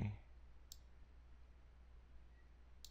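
Two sharp, faint computer mouse clicks, well apart, over a quiet low hum.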